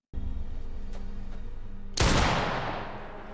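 A single sharp gunshot in a TV war drama crashes out near the end of a low steady background rumble, then decays with a short echoing tail.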